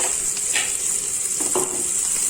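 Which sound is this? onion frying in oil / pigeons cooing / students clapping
onion frying in oil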